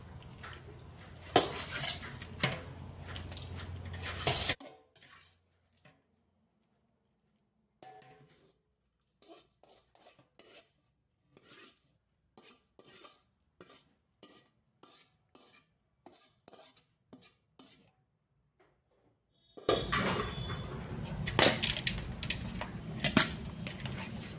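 Grated coconut being stirred into cooked rice in a metal pot, with a series of short, quiet scraping and clinking strokes in an irregular rhythm, set between louder stretches of kitchen noise at the start and end.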